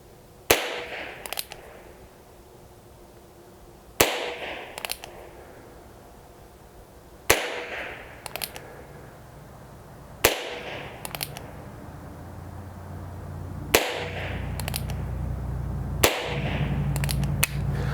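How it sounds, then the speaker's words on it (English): Six quiet gunshots from Colibri low-noise rounds fired in a Barkeep Boot pistol, sharp pops spaced several seconds apart, each followed by a faint ringing tail. "All 6 of those. Super quiet with the Colibris in there. Really quiet."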